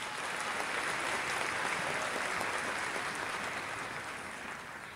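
A seated audience at a Japanese business lecture applauds steadily after the company president's talk, a continuous even wash of many hands that slowly tapers toward the end.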